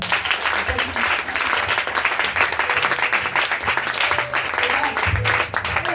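A church congregation at a national evangelical vigil applauds to praise God with sustained, dense clapping from a crowd filling the room, loud and continuous throughout.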